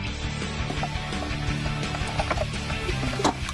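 A paint mixing machine at a hardware store runs with a steady mechanical rattle and rhythmic clanking, droning continuously at moderate volume with no one speaking.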